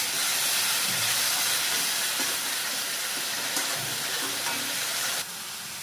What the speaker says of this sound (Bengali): দেখো হলুদ, এটা আমি সুন্দর করে এইভাবে কষিয়ে নেব।